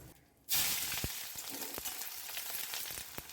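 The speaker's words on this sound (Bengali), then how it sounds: "পেঁয়াজ কুচিটা এখানে দিয়ে দেবো এবং হালকা করে একটু ভেজে নেবো" Chopped onions hit hot oil in a pan after dried fish has been fried, bursting into a loud sizzle that settles into steady crackling with a few clicks of stirring.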